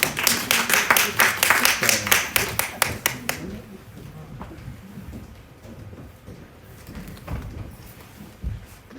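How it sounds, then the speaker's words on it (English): Audience clapping at a trade development forum, a burst of rhythmic claps for about three seconds that quickly fades into room noise and scattered murmuring. "please let's give a rousing round of applause"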